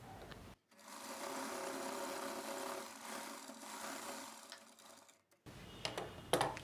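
A sewing machine stitches a blouse lining in one steady close run of about five seconds that stops abruptly. Brief handling clicks and rustles of fabric follow.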